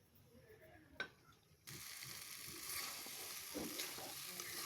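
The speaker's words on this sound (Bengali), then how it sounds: "এখন ভালো করে আমি লাড়া দিয়ে নিতেছি" Pasta with spices sizzles and fries steadily in a pan as it is stirred at close range, with a soft knock early on before the frying noise rises and stays even.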